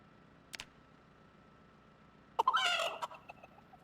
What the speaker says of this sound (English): That's the sound of happiness that the chicken makes when it serves a higher purpose.